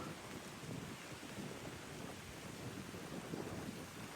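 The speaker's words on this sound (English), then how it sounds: "It is rainy and windy up here." Rain and wind sweep across an exposed mountain lookout near a gorge, a dense, steady rushing roar with gusty low rumble and no let-up, heard alone without voices.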